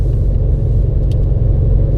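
A 416 stroker LS3 V8 engine in a Pontiac G8 idles with a steady, smooth low rumble, close and continuous, with no revving.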